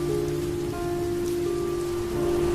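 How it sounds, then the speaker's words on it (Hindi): Heavy rain pours steadily on a surface at a lonely roadside at night, a dense, continuous close hiss with a few steady tones beneath and no voices. "ट्रक थोड़ा और आगे बढ़ा ही था कि बारिश तेज हो गई।"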